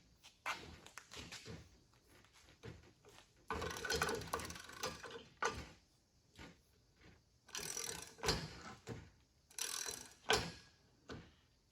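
A ratchet is worked on a Mastercool 71550 AC hose crimper, giving irregular bursts of close metallic clicking and mechanical clatter separated by short quiet pauses.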